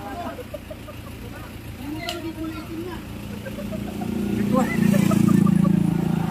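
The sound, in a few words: Isuzu Trooper 4JX1 diesel engine revving at 3,000 RPM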